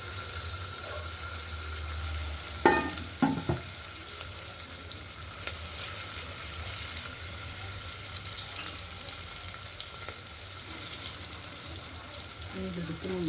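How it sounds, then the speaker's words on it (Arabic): Onion frying with boiled beef tripe in a pan with butter, a steady soft sizzle with a couple of stirring clatters near the start and a voice talking over it. "ننزل البصله، كرش حبايبي اهي اتسلق"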